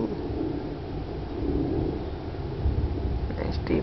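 Deep thunder rolls and rumbles during an August lightning storm, a low sustained growl that rises and falls for several seconds with wind noise on the microphone and a person's voice nearby.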